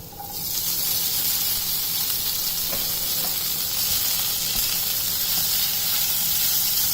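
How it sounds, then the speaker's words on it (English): Soaked poha with onion fries in a pan with a steady, bright hissing sizzle that rises at the start and holds evenly, close and fairly loud, with no talk. "Now I'll mix it and let it fry."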